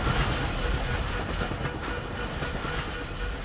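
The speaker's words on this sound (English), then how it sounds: "Oh my gosh, there's a train above me?" A train in the Dishonored video game rumbles past overhead, a loud, steady, broadband roar with rhythmic rattling that fills the whole stretch without letup.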